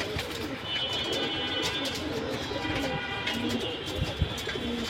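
Silver pigeons, a big-sized pair, keep up a continuous low cooing drone at close range, with soft rolling calls layered over one another and a brief sharper sound near the end.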